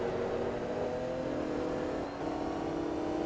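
A Porsche 911 GT1 race car engine in Forza Motorsport 2 drones at a steady high rev, a sustained even whine running throughout with a slight dip near the end, no voices over it.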